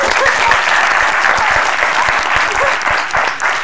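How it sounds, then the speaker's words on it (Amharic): A studio audience at a lively game show breaks into loud, dense applause that holds steady throughout, close and full with no break. "አንዴ አጨብጭቡ"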